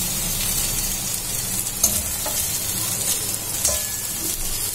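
Okra (bhindi) frying in a pan gives a steady, close hiss of sizzling, while a utensil stirs it with a couple of soft scraping knocks. Nobody speaks.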